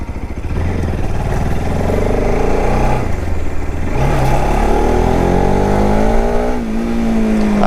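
A modified Bajaj RS200 motorcycle engine revs hard and loud up close, its pitch rising and falling through repeated throttle blips and climbs.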